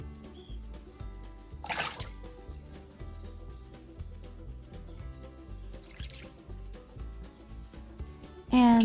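Water splashing and dripping as orchid roots are rinsed while unpotting a small Sedirea japonica or Neofinetia falcata plant, soft intermittent trickles and drips at close range over a faint steady background.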